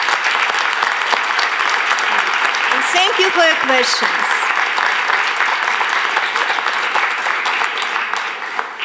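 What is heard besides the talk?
audience applause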